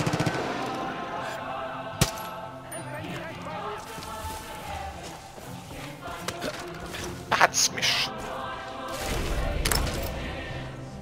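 Gunfire rattles from several directions in the video game Far Cry 5, with scattered shots and short bursts under a busy game soundscape while a player talks over it.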